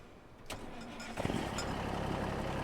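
A vehicle engine in a farming video game cranks briefly, then catches and settles into a steady idle, moderately loud and close.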